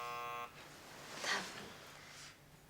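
A door buzzer sounds, a harsh droning buzz heard first, then fading into a noisy room background.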